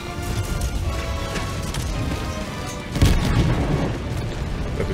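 An air support strike in Helldivers 2 lands as a heavy, rumbling blast with a sharper, louder burst of impact about midway, set within dense, continuous battle noise.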